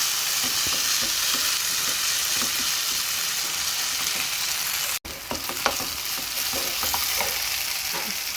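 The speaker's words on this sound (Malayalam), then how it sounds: "നന്നായിട്ട് ഇളക്കി കൊടുക്കുക." A spatula stirs mutton biriyani masala with green chillies and spices in a hot pan, giving a steady close sizzle with scraping strokes and a brief break near the middle.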